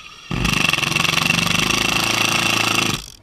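A Ryobi high-torque power tool runs in one steady, loud, rapidly pulsing burst of about three seconds, starting abruptly after a brief quiet moment and cutting off at the end, with no talking over it.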